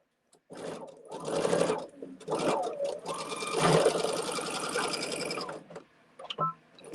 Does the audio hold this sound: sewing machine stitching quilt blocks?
yes